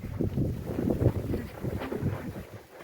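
Cool wind blows in a steady, rumbling rush across the microphone, loud and buffeting throughout with no voices.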